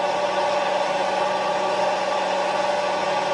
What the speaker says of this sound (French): Je vais mettre les gaz.